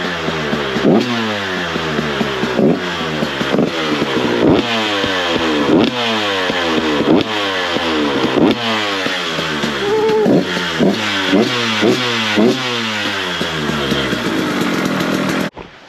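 A two-stroke dirt bike engine runs in the snow, its buzzy exhaust revved in a steady series of sharp, rising blips close by, with no talking over it.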